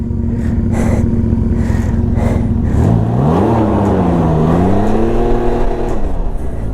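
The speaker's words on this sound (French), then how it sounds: "Oh, je vais fumer son pneu." A 2020 Can-Am Ryker three-wheeler holds a loud, steady engine roar during a tyre burnout, the pitch rising and falling as the throttle is worked, close and alone.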